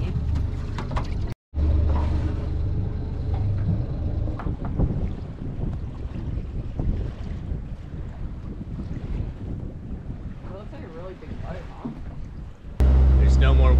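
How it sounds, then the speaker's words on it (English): Boat motoring under engine power at sea, a steady low engine rumble mixed with heavy wind buffeting and splashing water, loud and continuous throughout. "There's no more wind, so we're motoring."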